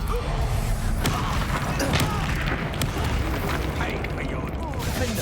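Expulso blasting spell in Hogwarts Legacy, a dense rumbling boom and crashing bursts amid busy combat noise, with a voice speaking over the action.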